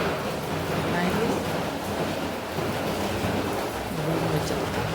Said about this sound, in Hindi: तो आप लोगों को बारिश की आवाज़ सुनाई दे रही होगी बाहर कितनी तेज।